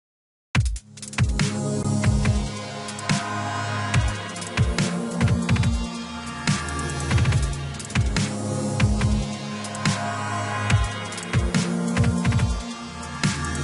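A synth pad built in Massive inside Ableton Live swells and shifts as it morphs, layered with a steady dubstep-style beat of punchy drum hits throughout, loud and continuous with no talking.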